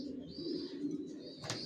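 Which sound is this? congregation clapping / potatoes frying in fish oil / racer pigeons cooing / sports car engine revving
racer pigeons cooing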